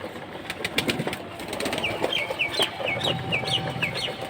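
Pigeons flutter and flap their wings close by while repeated short chirping calls sound in a quick series over a busy background.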